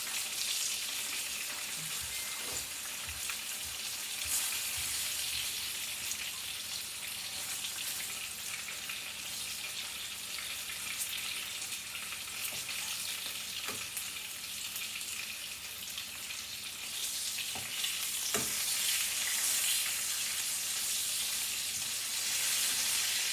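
Chicken fillet, beaten thin, fries in a pan with a steady, continuous sizzle and crackle for the whole stretch, occasional clinks and a brief watery splash in between, no voices.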